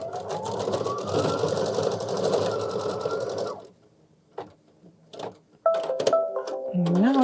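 An embroidery machine stitches out a Kimberbell mug rug design in a steady, busy run for several seconds, then stops, leaving quieter handling clicks and then someone talking.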